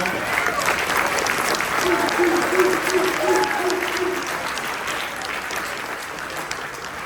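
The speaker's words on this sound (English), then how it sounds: "please give the Lotte Hotel staff a round of applause for the wonderful meal." An audience at an Air Force Airman Leadership School graduation dinner gives hotel staff a round of applause, steady, dense clapping filling the room and fading slightly toward the end.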